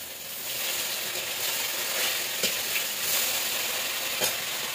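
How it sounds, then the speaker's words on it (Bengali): Fish frying in a pan gives a continuous, fairly loud sizzling hiss with a few faint ticks and spatters, a steady bed of frying sound with no talking. "মাছগুলো ভাজা হোক।"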